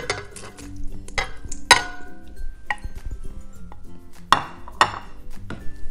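Fried potatoes are tipped into a bowl holding six beaten eggs for a tortilla moruna, making scattered close clatters and bright clinks against the bowl over steady background music.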